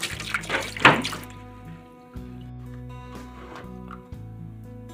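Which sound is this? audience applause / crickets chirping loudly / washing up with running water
washing up with running water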